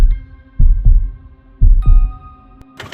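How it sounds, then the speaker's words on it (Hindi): Heartbeat sound effect in a Hindi horror story: two pairs of deep, booming lub-dub thumps over a sustained low hum, loud and close, then a brief noisy burst at the end. "रमेश का हृदय जोरों से धड़कने लगता है"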